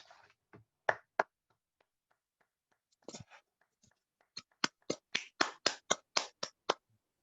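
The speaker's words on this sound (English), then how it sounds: "We have some canned clapping." A canned clapping sound effect played during an online Toastmasters awards event, heard as faint, sparse isolated claps at first, then a short run of a dozen crisp, evenly spaced claps, thin and quiet against near silence.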